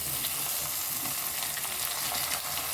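Onion and tomato fry together in a pan for karabath, a dense, even hiss of sizzling oil that holds steady throughout at moderate loudness, with no voices.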